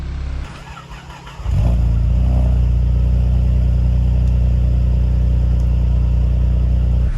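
A car engine in a car park idles low, then revs up sharply about one and a half seconds in and holds a loud, steady drone while the car is moved, with no talking.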